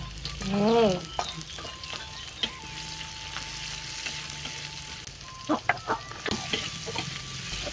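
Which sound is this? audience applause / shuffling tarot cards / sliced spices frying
sliced spices frying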